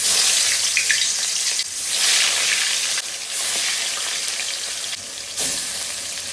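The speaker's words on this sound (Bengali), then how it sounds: "তেলটা গরম হয়ে গেছে, এখন দিয়ে দেবো হচ্ছে মাছ" River pangas fish pieces frying in hot oil in a wok, a loud, continuous bright sizzle that surges briefly as the fish settles, with no talk.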